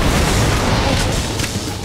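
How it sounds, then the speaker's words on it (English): A grenade goes off in the shooter game Borderlands 2, a loud, dense boom that fills the whole moment and rumbles on with a sustained low roar before easing slightly. "Grenade."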